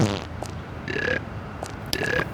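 Two burps from a character in the video game GTA 1, each a short rasping, pitched eruption about a quarter second long, loud and close, separated by a brief pause with faint game ambience around them.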